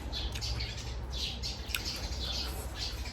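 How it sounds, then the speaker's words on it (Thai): Birds call in short, repeated squawks and chirps against a steady low background hum, fairly faint and distant. "เสียงนกห้อง"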